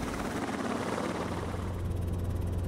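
A Robinson R-22 helicopter on New Zealand's South Island west coast gives off a steady, loud rotor thump and engine whine that shifts slightly in tone partway through, with no talk.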